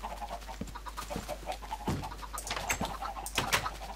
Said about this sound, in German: Okay, wir haben schon wieder mehr Hühner.